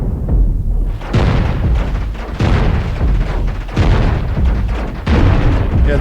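Cannon fire and exploding ships in the space-builder game Cosmoteer: a dense, loud run of heavy booms and crackling blasts, with several fresh impacts hitting about every second over continuous rumbling.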